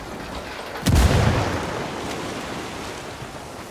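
Frag grenade explosion in Ghost Recon Wildlands: a single heavy, close boom with a deep low-end punch, fading into a long noisy rumble and wash of debris.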